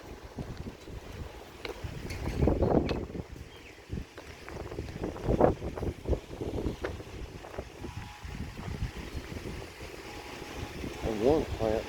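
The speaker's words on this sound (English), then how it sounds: "Pretty windy." Strong gusting wind buffets the microphone outdoors in a garden, a loud continuous roar with surging bursts throughout, fairly close and with no other clear sounds over it.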